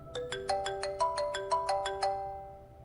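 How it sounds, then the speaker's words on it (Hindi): Mobile phone ringtone signalling an incoming call, a bright repeating melodic chime of about ten quick notes, loud and close with no voices over it. "माँ जी का फोन है।"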